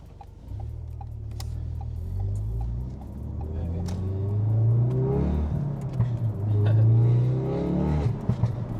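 Ford Focus RS Mk3 with a Stage 2 tune revving up and down from inside the cabin, a sustained engine drone rising and falling, with scattered sharp exhaust pops and crackles, particularly toward the end.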